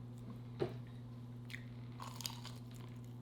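Someone bites into and chews Buffalo Blast snacks close to the microphone, giving a few sharp, dry crunches over a steady low room hum, with no talking during the bites.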